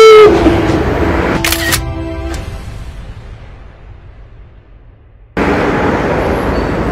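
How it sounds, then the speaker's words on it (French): A single camera shutter clicks close up for a selfie, a short sharp snap amid outdoor background noise, followed by a pause and then the noise returning. "Mais avant de terminer, un petit selfie."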